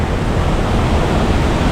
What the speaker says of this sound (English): we can see another waterfall from here